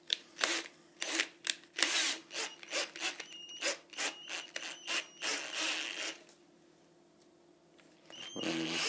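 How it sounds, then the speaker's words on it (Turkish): A hand drill or rotary tool working a wooden kavala part for a model aircraft, in short repeated rasping bursts that end in a quiet pause before the tool starts up again. "Şimdi matkapla kavala üzerinde çalışacağız."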